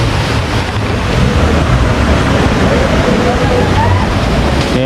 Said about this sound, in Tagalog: Nandito na tayo sa tabing ilog.